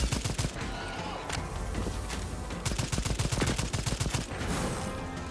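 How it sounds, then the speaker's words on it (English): Rapid gunfire from the video game Second Extinction comes in dense bursts of sharp cracks, with brief lulls between volleys, loud and without speech. "I'm not landing a single shot with a sniper rifle."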